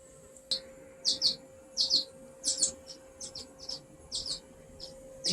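High, thin chirps from baby birds calling as their mother feeds them come in quick repeated bursts, clear and close, over a quiet background with a faint steady hum.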